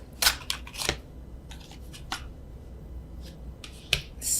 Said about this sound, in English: So let me do the overhand.